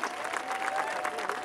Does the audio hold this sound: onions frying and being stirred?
no